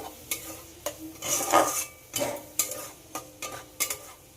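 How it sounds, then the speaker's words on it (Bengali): A blended spice paste is stirred in a pan as it fries, with a spatula scraping and knocking against the metal in a loose, irregular rhythm over a soft sizzle, close by and fairly quiet. "খুব ভালোভাবে মশলাটাকে কষিয়ে নেব।"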